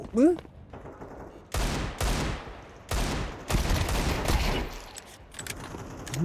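Gunfire in a Counter-Strike 2 deathmatch: several loud bursts of rapid shots in close succession, sharp and near, separated by brief pauses, with a voice briefly heard at the start.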